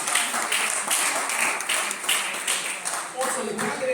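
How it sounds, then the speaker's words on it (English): Scattered clapping from a modest audience at a neighbourhood civic association's candidates meeting, uneven claps under a voice speaking. "Round of applause, Mr. Castro, please."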